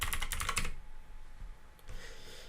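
A computer keyboard clatters in a fast burst of keystrokes, loud and close, then falls to a softer background hum with a few scattered clicks.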